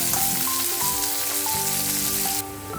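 Onions for rava dosa fry in a pan with a steady, close sizzle and crackle, with a few tonal hums and short beeps layered over the frying and no talking.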